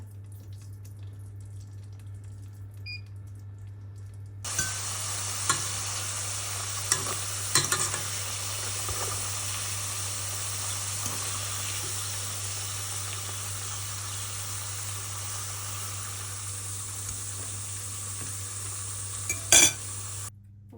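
Potatoes tipped into a hot pan for creamy potatoes, starting a sudden loud hiss of frying that then holds steady and continuous, set against a low background hum, with a few soft knocks and no voices.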